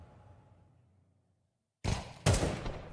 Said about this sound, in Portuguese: O disparo não conectou.